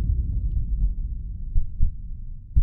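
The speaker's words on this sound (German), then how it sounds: "Warum höre ich so krass meinen Herzschlag?" In the horror video game The Lost Fear, a heavy heartbeat thumps at a low pitch with a steady, muffled rhythm, loud and close over a dark hum.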